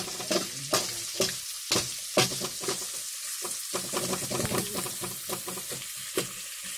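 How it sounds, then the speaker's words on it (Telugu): Onions and garlic fry in a pan for a dal, a steady sizzle broken by repeated scraping stirs of a spoon, close and moderately loud with no talking. "ఫస్ట్ మనము ఆనియన్స్ వేసుకొని బాగా వేగించుకుందాం"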